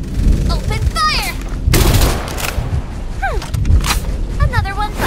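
Gunfire rattles through a Farlight 84 match in loud rapid bursts, mixed with booms and swooping sci-fi effects, dense and continuous with game voice lines over it.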